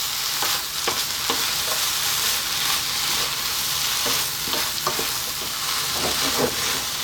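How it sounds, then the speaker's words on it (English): Zucchini and mixed vegetables fry in a pan for a lentil vegetable stew, a constant loud sizzle broken by repeated scraping stirs and clacks of the utensil, close up and without talk. "Keep it moving now. Let's get all these vegetables mixed in and on their way with the lentils."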